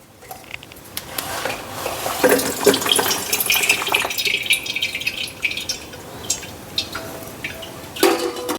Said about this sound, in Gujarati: તો હવે આપણે તેને એક ચાળણીમાં ચાળી લઈશું.